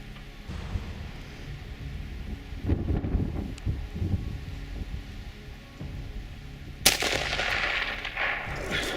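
A rifle fires at a moose during a hunt in Newfoundland, giving one sharp loud report with a rumbling tail, set against outdoor wind noise and rustling.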